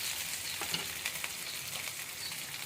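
Potato pieces fry in a pan for a home-style brinjal, tomato and potato curry, giving a steady close sizzle with a few soft scraping knocks from stirring and no voices.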